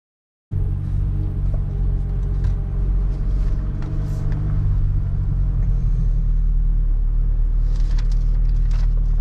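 A car engine starts up and settles into a steady low rumble as the vehicle pulls away and keeps driving on a remote road, loud and close with no talk.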